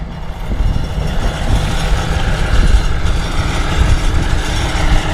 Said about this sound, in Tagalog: Pasensya niyo po, merong umaandar na makina.